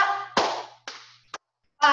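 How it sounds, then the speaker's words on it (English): A group of children in a dance class clap their hands in a few sharp bursts separated by gaps, fairly close and moderately loud. "Let's clap."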